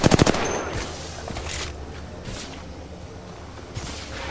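Gunfire in the Apex Legends video game, a rapid burst of about five loud, close automatic shots at the start, followed by quieter in-game noise with faint distant effects.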